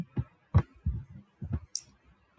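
A computer mouse clicks on a business profile in a search result, giving about half a dozen crisp, close clicks at uneven intervals in an otherwise quiet room.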